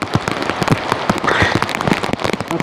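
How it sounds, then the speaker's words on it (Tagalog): Heavy rain pouring down by a river, a dense, loud patter of drops with sharp splashes and crackles throughout, steady and close, without talking. "Ganitong malakas ang ulan."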